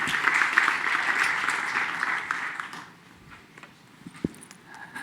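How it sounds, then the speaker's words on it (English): Audience applause at a Plug and Play Tech Center startup pitch event, steady clapping for about three seconds that thins out, followed by a sharp knock and quiet room sound. "Round of applause, please."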